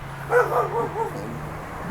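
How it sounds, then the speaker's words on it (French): A dog barks in a short run of yelping, whiny barks close by, sounding agitated, followed by a low steady hum with some background talk. "il y a le chien qui est pas content là, il veut marquer son territoire"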